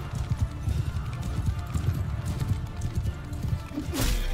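Horses gallop in the medieval battle game Mount and Blade 2 Bannerlord, a dense, loud and continuous drumming of hooves. A sharp clash rises near the end.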